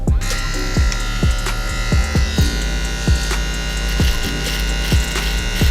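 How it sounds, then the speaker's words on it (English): Electric hair clippers shave a man's face, giving a loud, steady close-up buzz with a bright whine, broken by regular soft thumps and scraping strokes as the blades pass over the skin. "Now when you use clippers to shave"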